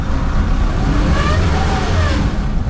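A Toyota Corolla Cross AWD pulls away from a standstill off-road in low-traction winter conditions, its engine droning steadily as the wheels spin, a continuous mid-pitched rush with no voices.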